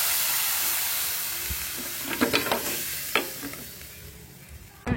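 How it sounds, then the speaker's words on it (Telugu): Rasam for bone soup is poured into a fried tempering. A steady hiss builds into a sharp sizzling burst, with bubbling and a few clinks over a constant frying background. "ఇప్పుడు ఇలా ఇది ఫ్రై అయిపోయాక మీ రసం పోసేయాలన్నమాట"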